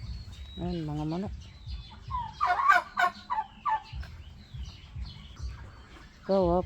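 A turkey gobbles on a farm, close and clear, with other fowl clucking and calling in between the gobbles and a second burst of gobbling near the end.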